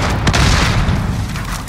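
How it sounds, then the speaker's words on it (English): A grenade explosion in the video game Call of Duty: Modern Warfare, a loud, sustained, low rumbling boom that fills the whole moment with dense, roaring noise and no pauses. "Throwing grenade!"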